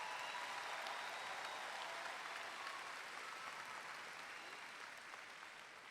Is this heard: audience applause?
yes